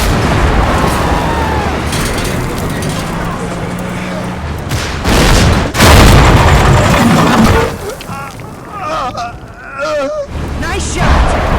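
Gunfire and booming explosions in the Combat Mission war game as a German 250 half-track is engaged, with loud repeated blasts and bursts over rumbling battle noise, plus a voice talking over it.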